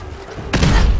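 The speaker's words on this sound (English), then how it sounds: "Throw some grenades on the ground." A sudden loud blast from a grenade in Fallout 4 gameplay, one sharp burst with a booming low rumble that lingers briefly after quiet background noise.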